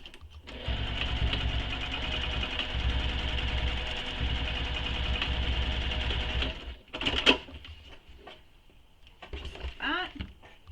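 A domestic sewing machine basting backpack webbing into place runs in one steady, humming stitching burst for several seconds, stops, and then gives a few short whirs and clicks afterward.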